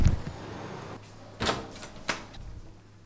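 Front door of a house opening, heard from another room as a few distinct knocks and clunks spread over a few seconds, moderately loud against a quiet indoor background.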